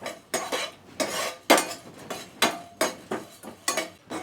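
Lentils dry-roasted with masala in a pan and stirred with a metal spoon: rhythmic scraping and clinking strokes, roughly two per second, close and fairly quiet, with no talk.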